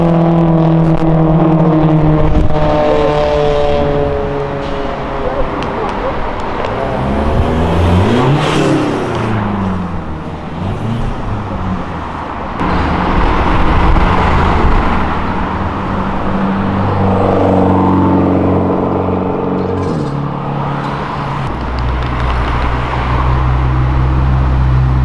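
Ferrari engine revving hard on an avenue, rising and falling whines as the car accelerates and passes close by, loud and continuous with a second surge near the end.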